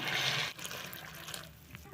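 Water pours briefly into a container of puffed rice for soaking, then settles into quieter sloshing and faint trickling.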